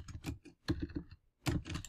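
Someone types words on a computer keyboard, quick close clattering keystrokes in short bursts separated by brief pauses, quiet and alone.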